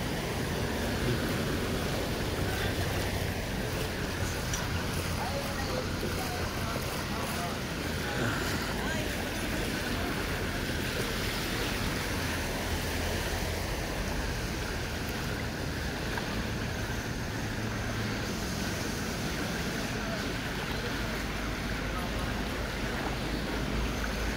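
A small boat moves across shallow water, a continuous broadband rush of hull wash and wind noise holding steady and close for the whole stretch, with no distinct breaks.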